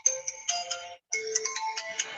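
A mobile phone ringtone plays a bright electronic melody for an incoming call, two close, clear bursts of chiming notes with a short gap between them and no talk.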